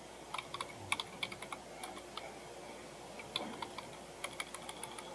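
Soft, rapid keystrokes on a computer keyboard patter unevenly in short runs with brief pauses, faint and close against a low background hum.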